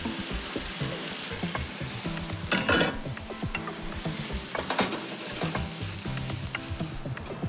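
Chopped onion and bacon cooking in their own rendered fat in a pan, crackling with a steady, close sizzle, occasional stirring scrapes and a brief louder burst partway through.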